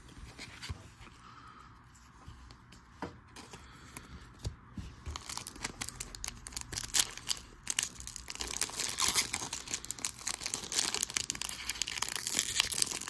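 A Bowman Platinum baseball card pack wrapper crinkles and tears, with dense crackly rustling that builds louder toward the end as the stubborn foil pack is worked open, close up with no talking.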